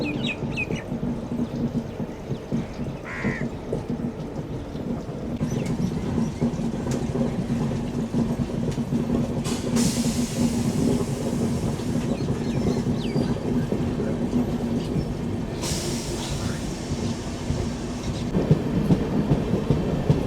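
A Duronto Express, train 22204 running between Secunderabad and Visakhapatnam, rumbles steadily along the rails, a continuous broadband clatter and roar that holds at even loudness with brief hissing surges, heard from on board without speech.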